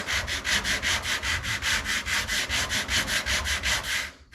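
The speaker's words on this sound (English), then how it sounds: "I'm gonna sand it by hand so I can get a feel and see which one is actually softer or harder" Steady back-and-forth scraping of hand sanding body filler on a 1989 Ford F250, about four strokes per second in an even rhythm, close and fairly loud, ending abruptly.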